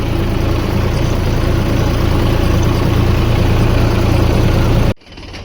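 A tractor idles near a castor field in Chobari village with a loud, steady, low engine rumble that runs unbroken and then cuts off abruptly near the end, with no talk.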